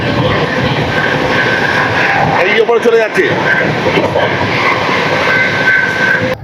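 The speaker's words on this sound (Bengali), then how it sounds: "এই মুহূর্তে আমাদের ট্রেন যাচ্ছে গাজিয়াবাদ দিয়ে।" The Howrah Barmer Superfast Express runs along the tracks near Ghaziabad, giving a steady, loud rolling rumble and rattle heard from inside the carriage, with someone talking over it.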